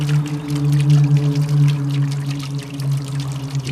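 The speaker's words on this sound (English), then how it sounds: "catching all the water that comes off the drip system when I'm watering my trees" Water from a garden drip system spills off stacked satellite dishes into an old repurposed bird bath outdoors, a continuous loud pouring and splashing with a steady low hum beneath it.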